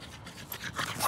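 A French bulldog puppy panting close by in quick, breathy bursts, short and fairly loud with no voices.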